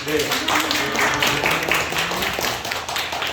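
An audience at a church service claps for a missionary, a brief burst of dense, close applause with speech mixed in.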